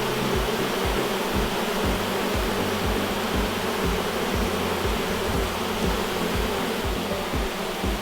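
Honey bees in an opened winter hive give off a dense, loud, continuous buzzing hum close by, steady throughout with no other sounds.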